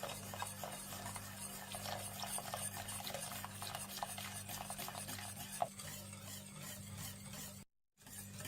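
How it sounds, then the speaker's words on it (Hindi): A spoon is stirred through custard powder and milk in a pot on the stove, with soft, continuous scraping and gentle bubbling against a low steady hum, quiet and without voices. "आप इसमें कस्टर्ड पाउडर थोड़ा थोड़ा करके मिला लीजिए और साथ साथ चम्मच भी चलाते रहें।"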